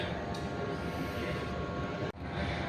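Commuter train at Blitar station late at night, a steady, fairly quiet rumble of the engine and rolling stock that drones on evenly with a brief dip near the end.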